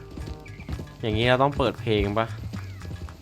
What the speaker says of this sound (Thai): ขับม้าเข้าเมืองเลยวะ